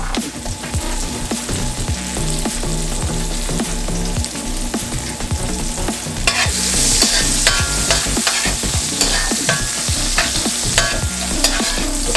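Scallions and curry sizzle and fry in a pot while being stirred, a dense, steady crackle broken by scraping strokes that grows brighter and louder partway through.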